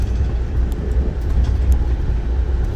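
Inside the Amtrak Carolinian 79 passenger train riding through North Carolina near Greensboro, a loud steady low rumble of wheels and carriage with faint rattles throughout.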